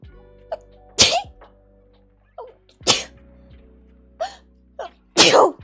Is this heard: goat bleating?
no